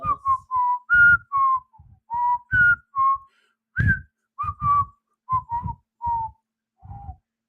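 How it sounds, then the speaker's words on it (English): A person whistles a melody in short, clear phrases with brief pauses between notes, close and fairly loud, with no talking. "just showing off your whistling skills"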